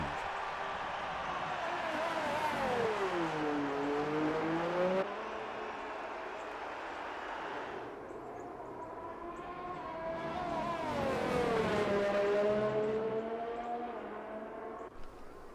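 McLaren Mercedes race car in a racing game, engine note swooping down and back up as it passes, then a second rising-and-falling whine, loud and close with steady background hum.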